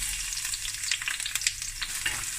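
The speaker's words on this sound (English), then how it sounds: "just give this a quick fry" Sliced onion fries in olive oil with a busy, crackling sizzle, popping close and fairly loud throughout, no talking.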